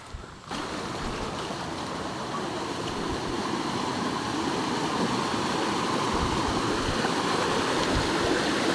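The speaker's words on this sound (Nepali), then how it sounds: "यो खटुङ खोला भन्छ" The Khatung stream in the Nepali hills rushes steadily and close by, a dense, even roar of flowing water that starts suddenly and holds without pause.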